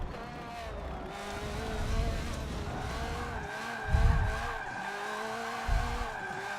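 Tires squeal and skid through drifting zones in the Forza racing game, a sustained screech over a steady engine drone with heavier low thumps and swells around the middle and near the end.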